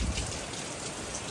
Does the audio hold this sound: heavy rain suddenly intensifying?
yes